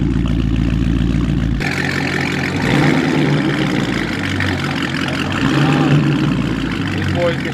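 A loud Scat Pack car engine of over 500 horsepower drones steadily on a dyno nearby, shifting pitch as it revs, with voices talking faintly over the mechanical roar.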